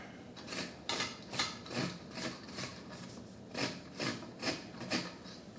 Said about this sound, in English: You don't want to zest too far down when you do zesting